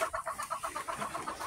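A Silkie hen makes soft, rapid clucking and panting sounds in a quick, even rhythm, faint and close, heard alone.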